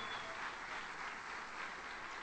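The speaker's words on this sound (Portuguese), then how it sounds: "Vamos dar um aplauso para esses visitantes" A church congregation applauds visiting guests with a steady, dense wash of clapping, distant and fairly soft, with no voices standing out.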